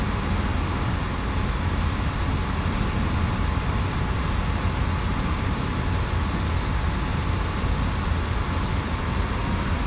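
F-86F Sabre jet engine at full throttle in the DCS World flight simulator, a dense, steady roar with a faint whine held constant and loud throughout level flight, no voices.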